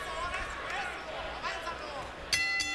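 A boxing ring bell sounds once near the end to close a round, a bright ringing strike over a murmuring arena crowd.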